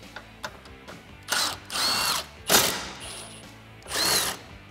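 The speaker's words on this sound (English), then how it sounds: "I'm going to use a T30 torque socket to remove the two bolts that are holding on this bar." A power tool turns a T30 Torx socket to remove bolts from a support bar on a Jeep Wrangler JL 3.6L, sounding in several short, moderately loud whirring bursts with clicks and handling noise between them.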